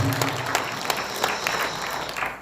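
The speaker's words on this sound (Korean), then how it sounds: "다시 한번 큰 박수를 보내주시라" An audience claps at an indoor political rally in Korea after a speech, a dense, close round of applause that fills the room and tapers slightly at the end.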